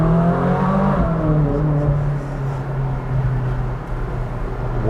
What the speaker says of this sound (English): the engine sounds so lovely